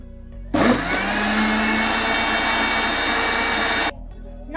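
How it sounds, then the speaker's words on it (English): A mixer grinder blends a biscuit milkshake of biscuit powder and milk, running as a steady, fairly loud whir for about three seconds before cutting off. "Now going to grind."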